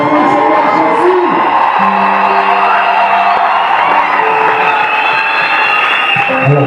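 Congregation at a church gathering cheering, whooping and shouting together, a loud sustained crowd roar with scattered voices and applause running throughout.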